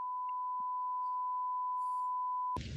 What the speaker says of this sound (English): Sorry for the beeping noise.